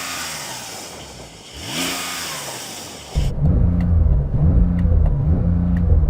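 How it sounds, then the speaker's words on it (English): A Porsche 911 Turbo S engine revs up and then settles into a loud, steady, throaty idle nearby, with no one speaking. "Let's have a listen to your Porsche."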